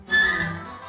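A single high, clear whistled note from a Disney film excerpt, short and close, rising sharply then sustaining and fading away with no talk over it.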